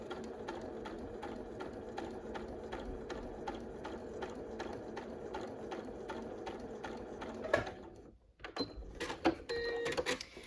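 A sewing machine runs a straight stitch through layered quilt fabric for a flying geese block, a fast, even mechanical chatter that continues steadily, then stops with a few handling clicks and knocks.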